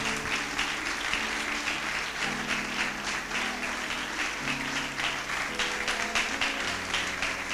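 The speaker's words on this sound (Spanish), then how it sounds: "Si lo recibes, apláudele." Sustained applause from a large church congregation, a dense steady wash of clapping that continues throughout.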